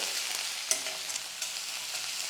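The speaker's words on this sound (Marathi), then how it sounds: "ठेचलेला लसूण घातला याला मंद असेवर परतून घ्यायचं" Crushed garlic sautéing in tempering oil over a low flame, a steady soft hiss of frying with a faint tap or two from a utensil, close and alone.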